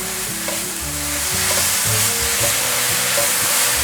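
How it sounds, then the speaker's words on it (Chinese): Tomato and enoki mushrooms are stir-fried fast in a wok, with a loud, close, continuous sizzle and repeated scraping and tossing sounds from the spatula. "番茄炒软了，现在放入金针菇。 快速的翻炒"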